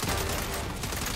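Dense, continuous burst of automatic turret gunfire in the Saints Row video game, loud and unbroken across the short clip with a constant wall of rattling shots.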